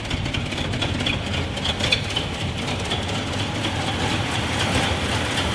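A rough, uneven Ford F250 truck engine rumble runs continuously up close, loud and low with sputtering irregular pulses and no talking.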